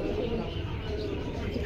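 Pigeons at a pigeon market in Jinjira Bazar, Keraniganj, give soft, continuous cooing beneath a dense murmur of market noise, with faint chirps mixed in and no clear pauses.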